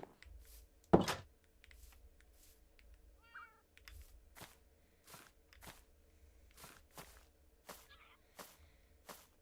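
Cat meowing in the video game Minecraft near a jungle house, with a few short, faint meows among repeated soft thuds and clicks.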